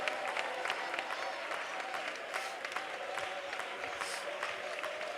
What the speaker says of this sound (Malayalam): എല്ലാവരും കൈയടിച്ച് ദൈവത്തെ ഒന്ന് സ്വന്തം പറഞ്ഞാട്ടെ